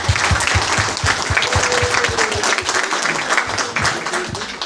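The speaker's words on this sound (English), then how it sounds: "So let's give them a round of applause." A hackathon audience applauds an award winner with steady, dense clapping from many hands, loud and sustained throughout.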